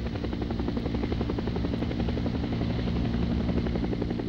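A British military helicopter hovers low over a moving Dutch destroyer, its steady rotor throb and engine whine loud and continuous throughout.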